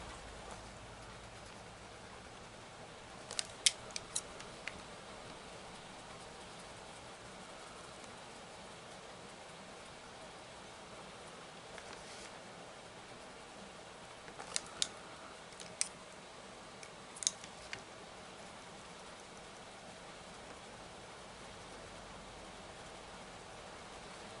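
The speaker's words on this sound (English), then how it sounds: "Can you hear that rain?" Steady, faint rain patters in the background, with a few scattered sharp ticks of drops hitting a surface.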